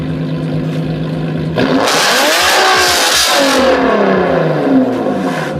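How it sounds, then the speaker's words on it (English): A Nissan 370Z rear-wheel-drive sports car with its VQ engine revs hard, a loud close roar sweeping up and down in pitch after a quieter idle start, sustained for several seconds. "The 370Z is a powerful rear-wheel drive sports car famous for its VQ roar."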